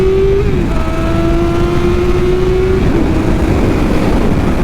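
A Kawasaki ZX7R motorcycle pulls hard in second gear from about 60, its engine note a loud, steady drone rising in pitch, buried in heavy wind rush as heard from the rider's position.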